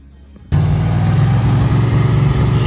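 A 1978 Ford Ranchero, back on the road after 35 years, fires up on a cold 20-degree day and settles into a loud, steady, close idle after a brief quiet start.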